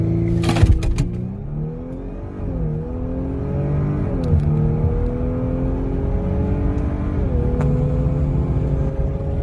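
An Audi B9 S4 fitted with a do-it-yourself 034 airbox intake mod launches on an eighth-mile test run, its engine revving up loud and close through several gear shifts, each marked by a brief dip before climbing again.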